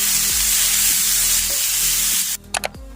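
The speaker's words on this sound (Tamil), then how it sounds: "இப்போ அதே கடாயில துருவி வச்சிருக்க இந்த பரங்கிக்காவையும் சேர்த்து நம்ம பச்சை வாசம் போக நம்ம" Grated pumpkin sizzling in a kadai for halwa, a loud continuous frying hiss with a spatula scraping and stirring at a steady rhythm, then a few sharp clinks at the end.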